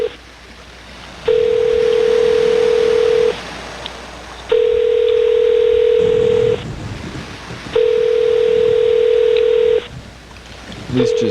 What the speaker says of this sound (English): let's try to call that person back